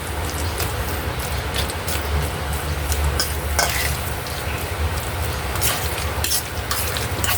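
A potato and tuna croquette mixture is stirred in a bowl, a continuous close scraping and squelching with occasional clinks of utensil against the rim, no voices.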